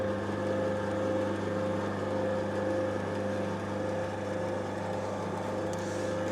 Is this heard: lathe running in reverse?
yes